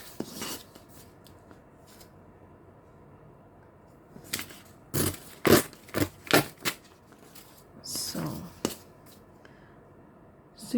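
Crafting cuts and rasps while trimming an envelope and fabric journal cover, a quiet stretch followed by a cluster of sharp scraping strokes near the middle and a few more toward the end, close and dry.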